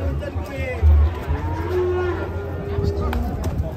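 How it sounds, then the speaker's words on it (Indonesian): A large, agitated cow being unloaded from a truck lets out a long, low moo partway through, over steady outdoor rumble and background noise. "sapi ini ngangkrik"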